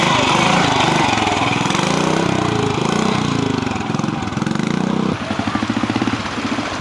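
A BSA B40 motorcycle on a trials route, with a Clubman rider aboard, runs with a loud, close, rough single-cylinder chatter that varies with throttle, then settles into a steady pulsing beat.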